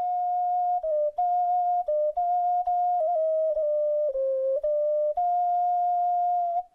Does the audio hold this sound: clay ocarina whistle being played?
yes